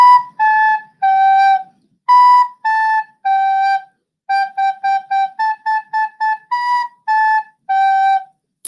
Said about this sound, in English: If you play it on recorder, it sounds like this.